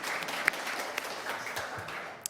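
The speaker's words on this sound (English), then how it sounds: "can a round of applause for that" Audience applause at a public talk on Toronto parkland, a soft, even wash of distant clapping from many hands with an occasional sharper clap standing out.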